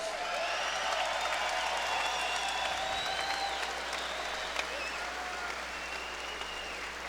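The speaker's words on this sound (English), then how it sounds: "let's have a round of applause for 2 true warriors" A fight crowd applauds steadily after a boxing bout, sustained clapping and cheering with faint voices mixed in, continuing evenly throughout.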